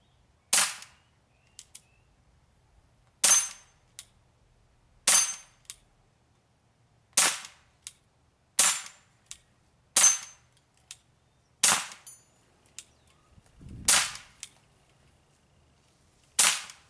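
Umarex USA CO2 BB pistol with a Monarch CO2 cartridge firing about ten sharp, loud shots at irregular intervals, each a crisp pop with a brief tail, separated by quiet gaps and no talking.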